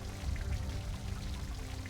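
Water pouring steadily in Lost Horizon 2, a continuous splashing gush at close range with no voices over it.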